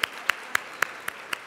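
Conference audience at a plenary session applauding, distant and fairly quiet, with six crisp claps standing out from a steady hiss of crowd clapping.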